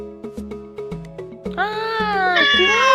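A cat meows loudly with a rising, drawn-out cry, heard over a plucky, rhythmic children's background tune.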